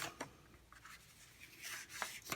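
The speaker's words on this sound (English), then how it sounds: "And let's cut this one at 6 inches." Cardstock being cut to 6 inches for a card organizer craft; a few quiet, scratchy slicing strokes up close, with no speech.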